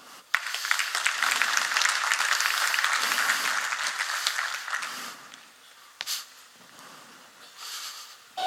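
An audience at a talk on air travel cyber security claps for a speaker, a dense burst of applause lasting about five seconds before thinning to a few scattered claps.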